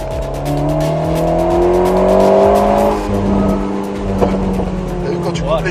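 Alpine A110 S accelerating out of a corner on a race circuit, its engine note climbing loud and close for several seconds before easing, with a brief squeal near the end.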